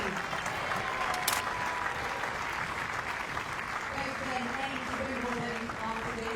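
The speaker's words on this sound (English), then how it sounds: "please give a huge round of applause to Sergiy Stakhovsky and Andreas Seppi" A tennis crowd applauds the players after the match, a sustained, moderately distant patter of clapping with a voice talking over it.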